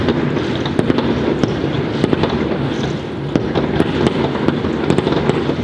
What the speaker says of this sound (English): These are the best fireworks I've seen outside our building.